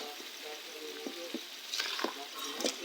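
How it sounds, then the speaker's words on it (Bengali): Spices with dry-roasted ground chillies sauté in a pan for tamarind pickle, a soft steady sizzle broken by several light stirring clicks and scrapes. "মশলাটাকে ভালোভাবে কষিয়ে নিব।"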